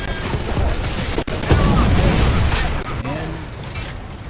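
A warship's 20mm secondary guns fire in rapid bursts during a War Thunder naval battle against a gunboat, with dense rattling shots under a loud, rumbling game soundscape.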